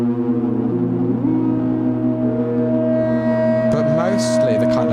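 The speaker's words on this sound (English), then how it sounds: "the sounds you're hearing are the reverb and delay that are giving it the character" A Stylophone DS2 synthesizer plays sustained, droning electronic tones washed in built-in reverb and delay, with layered pitch glides and a brief bright bleep near the end, loud and continuous with no voices.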